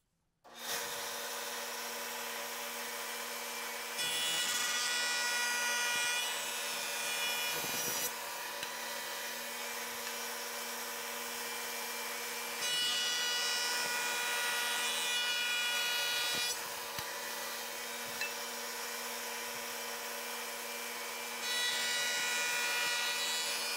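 A running jointer cuts a taper on a wooden leg pushed all the way through: a constant machine hum under a rough, rasping cutting sound that swells during the passes, moderately quiet and without voices.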